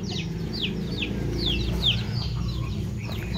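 Chickens, including Cornish bantams, clucking and squawking nearby in a farm flock, with several quick rising calls scattered over a steady low rumble of background noise.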